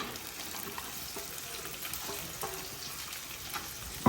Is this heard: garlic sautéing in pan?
yes